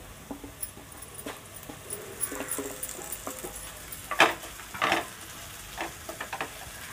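Okra (bhindi) being stirred in a pan with onion, a soft sizzle under intermittent scraping and clatter of a spoon, with a couple of louder stirring bursts near the middle and no talking.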